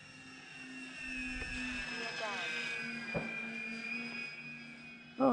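An E-flite Beechcraft D18 RC model plane drones steadily through gusty wind, with a continuous engine whine and someone talking over it on approach to a landing.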